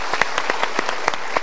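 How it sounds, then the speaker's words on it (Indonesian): Studio audience applause on an Indonesian talk show: a loose, evenly spaced run of sharp claps, moderately close and fairly loud, with no talking over it. "Kita berikan tepuk tangan."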